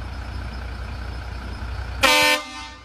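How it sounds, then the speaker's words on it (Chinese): A Scania horn fitted to the roof of a Sinotruk G5S truck gives one loud, brassy, multi-tone blast lasting about a third of a second. It sounds over a steady background hum and leaves a faint tail. "大家试一下喇叭，让凯友上车上按一下喇叭试一下。"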